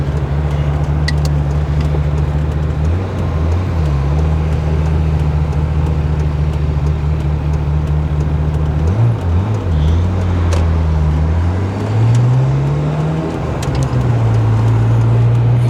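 A Ferrari F355 engine runs near operating temperature, holding a loud, steady low idle hum with a few slight rises and dips in revs, and faint traffic behind it.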